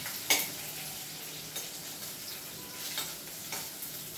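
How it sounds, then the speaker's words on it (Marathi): Onions frying in hot tempering oil for a savoury snack give a quiet, steady sizzle, with a few brief stirring scrapes and clinks from the pan, no talking. "कांद्यावर फोडणे टाकायचं सोपं पण चवीला छान लागतं"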